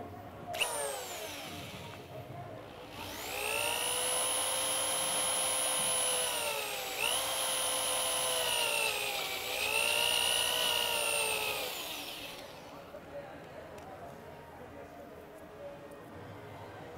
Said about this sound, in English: Then I'll turn the drill on and just open that up.